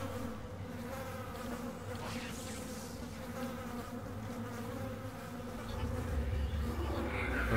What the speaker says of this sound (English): I hear bees or flies, whichever one really.